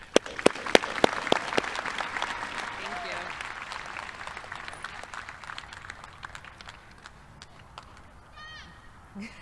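Applause from an audience at a junior high graduation ceremony for a speaker, opening with a few sharp claps, then a fainter, thinning patter of clapping that fades away while someone talks briefly near the end.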